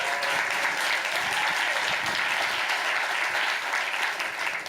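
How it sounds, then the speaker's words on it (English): An audience in a conference room claps for an activist who has just been named, a dense, sustained round of applause that holds steady and tapers slightly at the end, with no talk over it. "You can clap for her."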